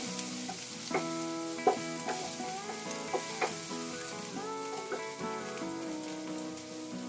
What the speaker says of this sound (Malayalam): നന്നായിട്ട് നമുക്കൊന്ന് ഇളക്കി കൊടുക്കാം.